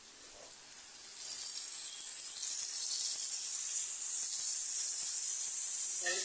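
A steady, bright hiss of sizzling oil follows as ground spice paste hits potatoes and paneer frying in a pan, continuous and close, growing slightly louder toward the end.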